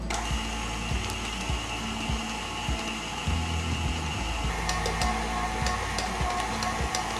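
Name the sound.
mixer on lowest speed mixing powdered sugar into frosting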